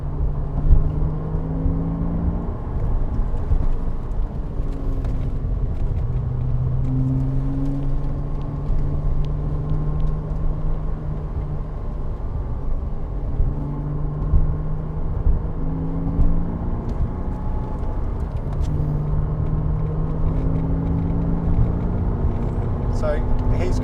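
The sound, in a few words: Audi TT S 3.2 V6 arriving on track at Bedford Autodrome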